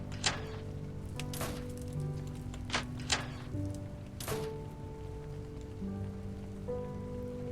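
Steady rain falling on a surface, with soft continuous patter and scattered louder drips and taps, heard from indoors near a view outside, quiet and close.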